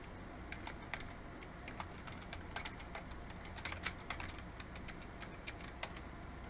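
Fingers type on a computer keyboard while logging into a server, with quick, irregular clusters of close, crisp key clicks over a quiet background.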